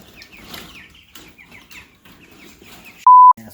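Baby chicks cheep in rapid, high, faint chirps across a few seconds, close by. A short electronic beep follows at the end.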